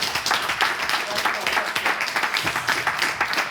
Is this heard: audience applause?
yes